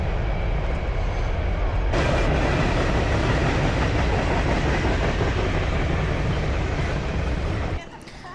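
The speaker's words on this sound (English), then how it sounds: "Another train." A loud train roars by on the tracks with rhythmic clattering, the noise swelling after a couple of seconds and dropping off near the end.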